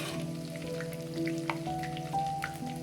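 Curry leaves sizzle in hot oil while cooking sev tamatar, a soft, steady crackle with scattered faint pops. A low tonal hum sits underneath.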